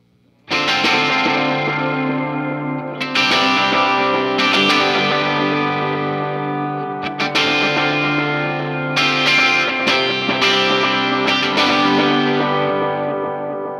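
Electric guitar played through an Ibanez DE7 delay pedal in echo mode into a Vox AC30 with a Pete Cornish SS3, strummed chords ringing out with repeating echoes trailing after each attack, loud and continuous with no talking.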